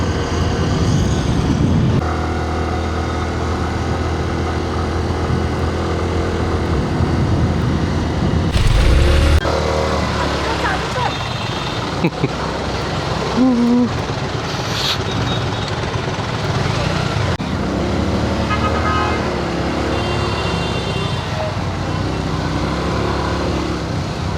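Steady road traffic on a busy street in Ratnagiri, a continuous broad engine and tyre rumble with passing vehicles and a few brief louder swells, heard close and loud with no talking.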